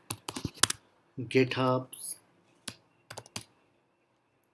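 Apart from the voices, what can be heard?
typing a terminal command on a computer keyboard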